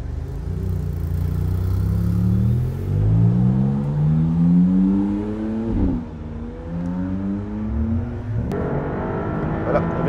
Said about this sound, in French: on est prêt à partir au volant de cette MC20